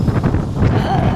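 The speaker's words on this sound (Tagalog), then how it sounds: "ang lakas naman ng hangin" Strong wind buffets the microphone in low rumbling gusts while a voice is faintly audible underneath, outdoors at the Blue Mountains.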